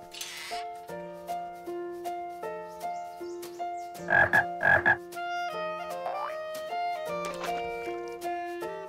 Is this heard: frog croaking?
yes